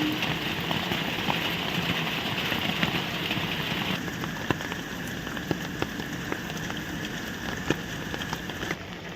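Heavy, persistent rain falls on a flooded village in Odisha, a thick, loud, unbroken hiss with occasional sharper drips and taps close by, over a low steady rumble and with no talking.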